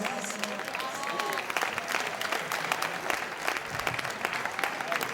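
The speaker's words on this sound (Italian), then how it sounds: "si meritano veramente l'applauso grande, grandissimo" Sustained applause from a crowd at an outdoor concert in a town square, many hands clapping steadily at moderate distance, with a few voices mixed in.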